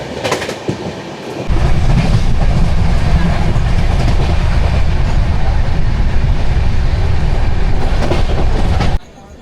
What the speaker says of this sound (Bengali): আমাদের ট্রেন এখন বারসই জাংশন ক্রস করছে